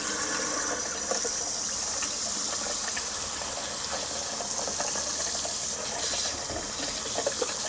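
Hot water runs from the bathroom tap of a camper fitted with a Fogatti InstaShower 8 Plus water heater, a steady close splashing stream into the sink that continues without a break.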